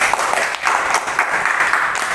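Schoolchildren in a classroom clap for a group after its presentation, a dense, fairly loud burst of steady applause filling the whole moment.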